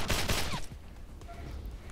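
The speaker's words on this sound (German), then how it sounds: "Hat er auf meine Rosie geschossen?" A short burst of rapid gunfire from the post-apocalyptic tactical game Wasteland 2 crackles at the start, followed by quieter scattered combat sounds.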